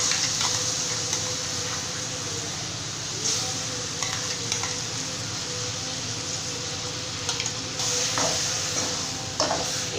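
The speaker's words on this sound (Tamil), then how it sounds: "இப்போ வந்து இது எல்லாமே சேர்த்துட்டு நல்லா ஒரு டைம் இந்த மாதிரி கலந்து விட்டுறலாம்" Tomato paste is stirred into brinjal masala kulambu frying in a pan, giving a steady close sizzle with scraping spoon strokes and occasional clicks against the pan throughout.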